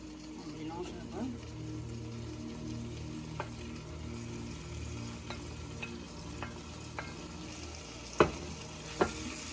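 Spinach is stirred into a sizzling mixture with chicken sausages, a steady frying hiss with scattered utensil clicks and two louder knocks near the end, low and close.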